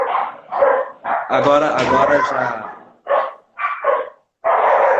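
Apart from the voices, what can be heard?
dogs barking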